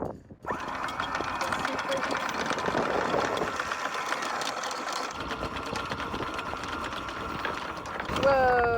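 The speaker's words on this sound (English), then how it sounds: "Upping anchor is hard on this boat, isn't it?" A steady mechanical whir and grinding of a boat's anchor windlass raising the anchor, loud and close, with a rising whine near the end.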